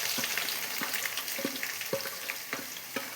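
Onions sizzle steadily in a hot pan, with a spoon scraping and clattering against the metal every half second or so. Close and continuous, with no voices.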